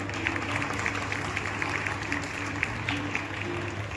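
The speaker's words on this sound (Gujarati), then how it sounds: "જોરદાર તાળીઓથી બતાવીશું આપણે" Audience clapping at a ceremony, a steady wash of applause from a crowd, fairly distant and continuous to the end.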